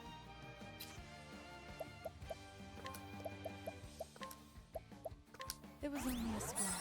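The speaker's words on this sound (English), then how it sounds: "It was only a splash." A splash in the video game Octopath Traveler: a run of small watery drips and plops over a soft musical backdrop, ending in a fuller burst of splashing water.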